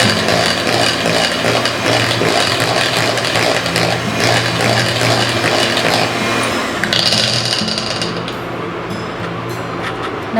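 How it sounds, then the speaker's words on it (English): An electric beater whirs steadily through chocolate cupcake batter, a loud continuous motor drone that shifts slightly in tone partway through and keeps running without pause. "Mix it again before starting the beater."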